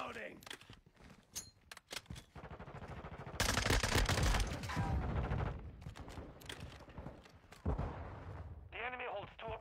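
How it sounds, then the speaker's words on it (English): Gunfire in the video game Modern Warfare II, bursts of rapid shots and a dense sustained volley in the middle, mixed with game sounds and a player talking. "I shot him with the first three bullets."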